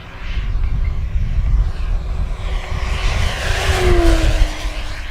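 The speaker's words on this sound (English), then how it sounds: "I just got the throttle wide open here." Scale RC warbird, a 1600mm Flightline F4U-1D Corsair, making a fast pass at wide-open throttle; a steady propeller drone rises and shifts in pitch as it comes by, loud and continuous with outdoor wind noise and no talk.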